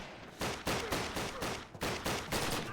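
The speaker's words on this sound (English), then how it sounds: "Gatling sniper, that's absurd. It like, you shoot, and then after delay, it shoots like a 3-round burst of like sniper bullets." A Gatling sniper rifle in the 2003 Call of Duty fires heavy, rapid shots close up, about seven or eight loud bangs in short, uneven clusters with no voices.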